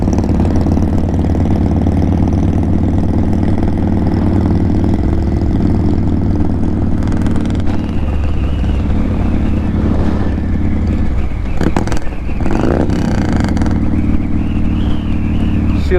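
Loud, steady engine rumble from many Harley-Davidson and Indian motorcycles idling and passing at a bike rally blessing event, with deep continuous drone and occasional revs.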